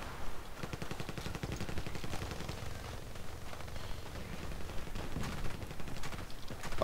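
An SKS rifle fitted with a Predator barrel fires in a video game, with rapid repeated shots in fast bursts, close and loud, over a busy background of other game sounds.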